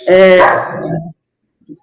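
A dog barks and yelps nearby in a short burst lasting about a second, loud and harmonic, then falls quiet apart from a faint trailing sound.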